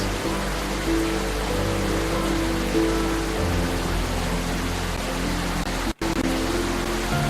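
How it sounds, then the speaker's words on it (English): Heavy rain in a video game pours steadily in a dense, loud hiss that barely changes, with a brief dropout near the end. "Damn, that rain is loud."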